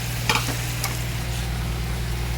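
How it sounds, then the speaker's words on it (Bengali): Chopped leafy greens sizzle in a hot pan, a dense, steady frying hiss with a couple of brief scraping stirs near the start, close and fairly loud, no talking. "এইবার আমি শাকটা দিয়ে দিচ্ছি, দেখুন।"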